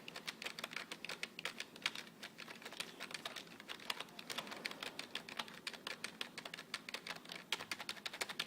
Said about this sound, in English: I'm typing up over here random stuff.